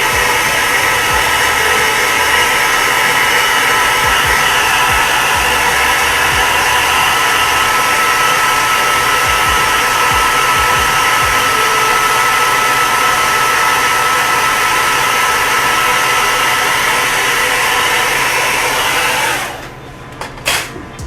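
A handheld dryer blows hot air over a chalk paste transfer on a craft project, a loud, steady whooshing motor hum running continuously for about twenty seconds before cutting off abruptly.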